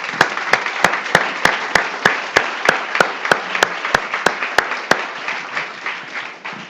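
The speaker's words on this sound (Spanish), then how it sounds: "Démosle palmas al Señor, hermano." A church congregation breaks into rhythmic clapping praising the Lord, with steady, evenly spaced claps ringing out loud and close over a diffuse wash of crowd noise for several seconds before fading.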